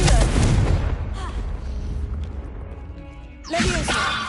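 Confringo fire spell blasts in the Hogwarts Legacy video game: a loud, rumbling explosion that fades over a few seconds, followed by a second sharp blast near the end.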